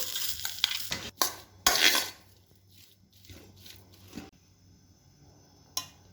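Green masala is stirred into mashed potato for Gujarati bataka vada, with a metal spoon scraping and clacking against the pan in brisk bursts, then softer intermittent mixing and a final clink.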